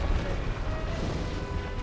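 A heavy demon boss stomp lands in Dark Souls Remastered amid a forest fight with Stray Demons, a dense low crashing thud over a constant loud rumble of game effects that fills the whole moment.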